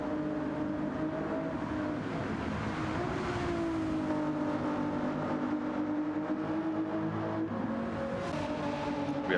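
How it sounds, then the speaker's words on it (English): A race car engine revs steadily in Gran Turismo 7 during an endurance championship race, a droning, sustained engine tone with rising and falling pitch that stays loud throughout. "engine just revving up."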